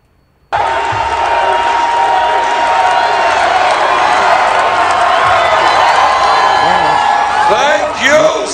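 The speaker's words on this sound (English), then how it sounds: "Cheers rang out for Senator Bernie Sanders on Thursday night" A large crowd at a Bernie Sanders presidential rally in the Bronx erupts into loud, sustained cheering, whooping and applause that holds steady for several seconds, with voices mixed into the roar.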